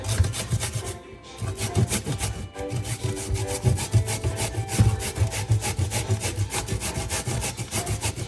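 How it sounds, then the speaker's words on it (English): Pumpkin rubbed against a box grater, a steady rhythmic rasping scrape repeating quickly and close up for several seconds without pause. "We're gonna grate the pumpkin to make the flour dough."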